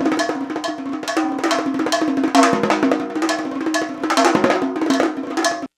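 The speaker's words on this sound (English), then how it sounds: "a very fast roll over 3 different rototoms that are tuned to a chord" Rapid tonal drum roll across three rototoms tuned to a chord, a continuous pitched rumble of quick strikes, loud and close.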